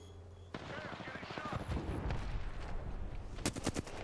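Gunfire and explosive impacts from a Bangalore ultimate artillery strike in the video game Apex Legends, with sustained loud blasts building to sharp cracks near the end, while players talk over the barrage.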